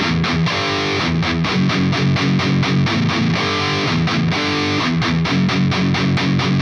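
A bridge riff, taken at a slower tempo on a distorted electric guitar: repeated down-picked palm-muted power chord chugs in a steady, driving pattern, loud and close with no voices.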